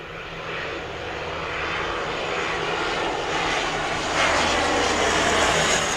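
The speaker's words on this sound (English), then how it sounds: "every once in a while a bigger plane like that comes in and they make a hell of a racket" A large airplane flies over near a municipal airport beside a boat club, a loud sustained engine roar that builds steadily and stays strong throughout, with no talking.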